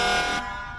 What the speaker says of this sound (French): Vous voulez entendre le klaxon